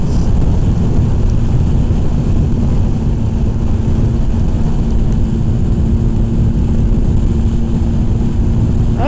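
A motorbike cruises at about 60 mph over a bumpy road, with a loud, steady roar of wind buffeting the microphone and engine drone underneath throughout.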